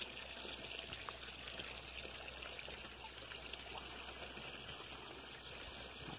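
Water draining from a home fish tank, a steady trickling and streaming rush that holds at an even level throughout, with no talk.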